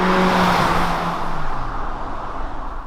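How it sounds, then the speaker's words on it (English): 2021 Hyundai Elantra hybrid with a 1.6L powertrain pulling away at night, a steady broadband road and motor whir with a low hum that eases slightly as it moves off, no voices. "let's go out to the road and drive this all-new Hyundai Elantra with Hybrid Powertrain"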